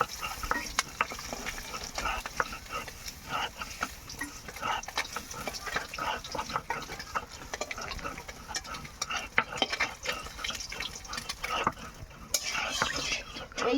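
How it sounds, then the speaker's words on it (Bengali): Fish frying in a pan with a constant crackling sizzle and frequent stirring and utensil clinks, fairly close, busy and irregular over the whole stretch, without talk. "আমার মাছগুলো ভাজা হয়ে গেছে এবার নামিয়ে নেবো"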